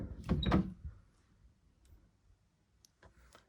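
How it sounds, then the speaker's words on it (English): A door swings open with a short burst of creaking and rattling near the start, then the room goes quiet apart from a few faint clicks. "And then in through this door,"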